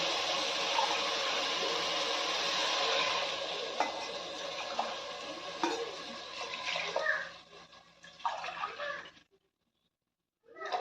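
Coconut milk pours steadily into a pot of rice for a corn coconut pulao, a continuous splashing gush that thins out and breaks into smaller trickles and drips before stopping, with kitchen clatter near the end.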